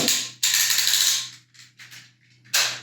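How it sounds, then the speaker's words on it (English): Loud, rapid ratcheting clicks from the leg joints of a Transformers Cybertron Metroplex toy, in bursts, a long clatter followed by shorter bits of clicking and a final burst, close up in a resonant room. "the loud ratchets"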